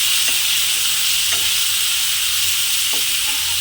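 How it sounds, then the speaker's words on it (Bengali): Potato pieces frying in a pan, stirred with a utensil, a loud continuous hiss of frying broken by a few sharp scraping taps of the stirring. "এখন এটাকে ভালোভাবে নাড়াচাড়া করে নেব।"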